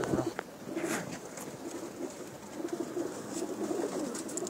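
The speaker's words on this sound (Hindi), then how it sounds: "ਇਹ ਕਬੂਤਰ ਜਿਹੜਾ ਮੇਰਾ ਪੁੱਤਰ" Pigeons softly cooing in a loft in Jeddah, with repeated low murmuring coos at a faint level, steady and unhurried against quiet background noise.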